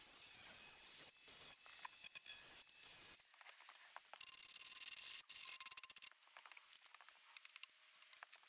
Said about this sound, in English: we'll give it a sand and we'll bring it back